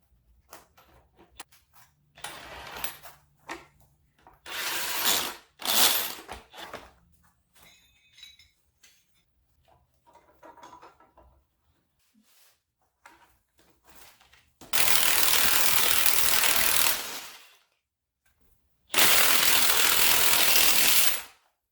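Ratchet wrench with a 17mm socket loosening the top nut of a front strut on a third-generation Toyota Tacoma during a leveling kit install; scattered clinks and mechanical clicks first, then two loud, sustained bursts of rapid ratcheting near the end.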